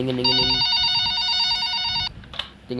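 A telephone rings inside a video game, with a loud electronic trilling ring that repeats steadily for about two seconds, then stops, followed by a few faint clicks.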